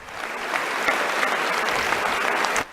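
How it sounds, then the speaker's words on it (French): The full chamber of the French National Assembly applauds a deputy: dense, sustained clapping swells within the first half-second, holds steady and loud, then cuts off abruptly just before the end. "Jean-Luc Mélenchon qui est applaudi par l'ensemble de l'hémicycle."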